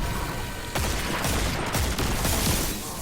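Sustained gunfire from the Destiny 2 Fallen SABER strike, dense and loud, with rapid overlapping shots and blasts that run continuously across the whole stretch with no voice over them.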